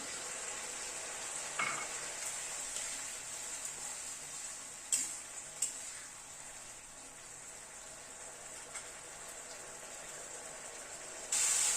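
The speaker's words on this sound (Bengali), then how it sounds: "সব মশলাগুলো প্রায় মিনিট 3-4 সময় ধরে গ্যাসের ফ্লেমটাকে মিডিয়ামে রেখে কষালাম।" Spices and fresh green peas sauté in a pan over a medium gas flame for a paneer tomato gravy, giving a steady close sizzle with occasional clicks and scrapes of stirring and no talk.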